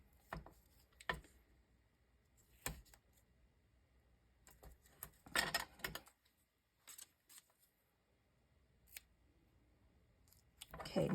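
Scissors snipping through craft paper for a Christmas lantern, cutting at an angle: a few separate crisp cuts spaced over several seconds, with a denser flurry in the middle, close by with quiet gaps between.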